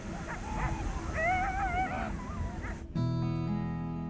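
Greenland sled dogs whimper and yip close by in a quick run of high, wavering cries, which cut off abruptly into a steady tonal background.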